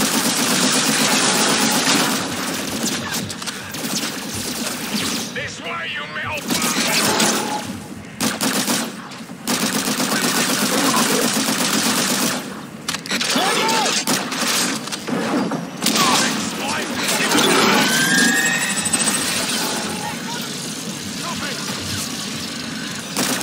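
Gunfire from the video game Call of Duty: Infinite Warfare, with dense, continuous automatic bursts and explosions over a busy battle soundscape. The gunfire is loud throughout, with talk mixed in.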